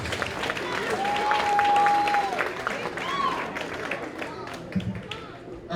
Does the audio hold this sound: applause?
yes